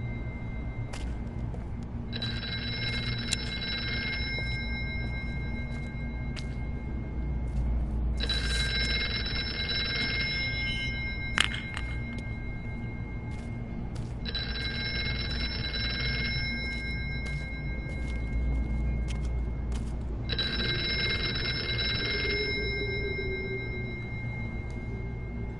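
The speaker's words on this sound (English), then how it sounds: "You really want me to go answer the phone right there?" A video game telephone rings in four evenly spaced bursts of a bright, buzzing bell, each lasting about two seconds, over a low steady background hum.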